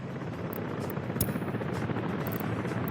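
A helicopter in Workers & Resources: Soviet Republic gives off a continuous whirring rotor drone, fairly quiet and steady, with a few faint high clicks on top and no speech.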